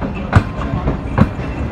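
A CRRC Tangshan coaching set attached to the Millat Express pulls away from a station platform, with rhythmic clickety-clack of wheels over rail joints heard up close.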